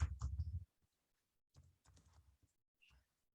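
Typing on a computer keyboard, a short burst of rapid clicks followed by a pause and then a few more scattered keystroke clusters, close and fairly quiet with no talking.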